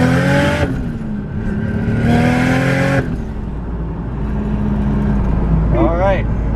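A turbocharged 2JZ-GTE Lexus GS300 with a new Precision 6266 turbo pulls hard from a stop. The engine note climbs loudly, drops at a gear change, then climbs again, and a brief voice comes at the end.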